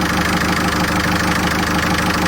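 A new Yanmar boat engine idles inside a freshly insulated engine box, giving a steady, close, even hum with a low throb that never changes across the short stretch, and no voices over it.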